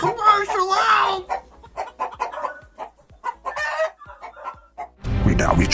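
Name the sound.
chickens clucking and rooster crowing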